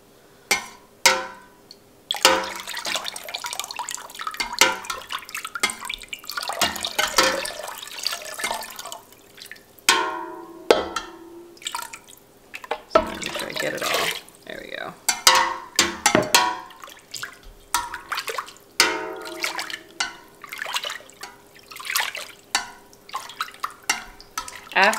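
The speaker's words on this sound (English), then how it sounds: "So I'm gonna stir, you can see it's actually fully dissolved right now." A spoon stirs rennet into milk in a pot while making mozzarella, giving soft sloshing and clinking in irregular up-and-down strokes, with a person talking throughout.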